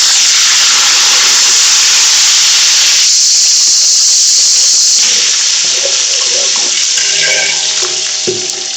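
Fresh mint hits a large pot of spiced chana rice pilau, giving a steady, loud sizzling hiss with a watery steam sound throughout and no voices.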